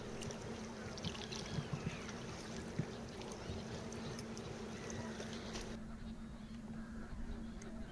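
Quiet harbour ambience at Blakeney, soft lapping water with faint knocks and clinks from moored boats and a low steady hum.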